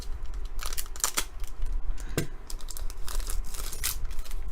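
A foil pack of 2018 Panini XR football trading cards is torn open with several rough ripping and crinkling bursts close by; the wrapper resists at first.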